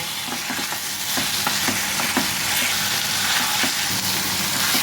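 Chicken sautéing with spices in hot oil for chicken makhani, a steady sizzle and fry with soft repeated scrapes of stirring, close and continuous with no talk.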